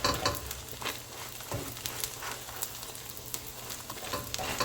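An omelette fries gently in a pan on a stove turned very low, giving a soft, continuous sizzle with small crackles and pops and no talk.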